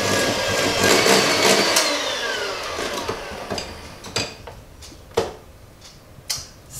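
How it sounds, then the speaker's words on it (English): Butter and sugar beaten until creamy for Christmas puddings: a close mixer whir runs loudly for a few seconds, then winds down, leaving scattered knocks and taps against the bowl. "I'm going to beat the butter and sugar till it's nice and creamy"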